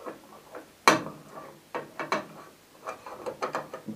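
The rip fence on a Record Power Sabre 250 bandsaw is slid on and tightened, giving a series of close, irregular mechanical clicks and ratcheting ticks with one louder knock.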